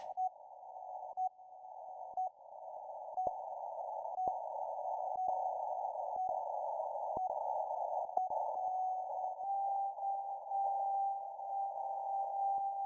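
A PSK digital data signal on radio, a steady narrow warbling tone with regular short clicks and brief dropouts, continuous and alone for several seconds.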